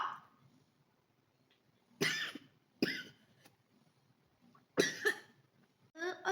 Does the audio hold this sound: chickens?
no